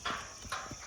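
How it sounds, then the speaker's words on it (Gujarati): Hooves of a Kathiawari mare strike the ground in a quick, faint clip-clop rhythm, a few close steps in a brief moment with no voices. "આ કાઠિયાવાડી ઘોડી."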